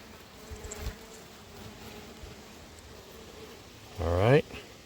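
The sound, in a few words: honeybees buzzing during hive inspection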